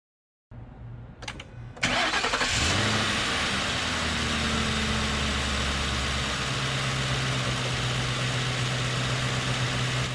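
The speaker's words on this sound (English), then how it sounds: "start the car and let it run with the cap off" 2011 Ford Crown Victoria engine cranking briefly, catching, then settling into a steady, even idle that runs on at moderate loudness.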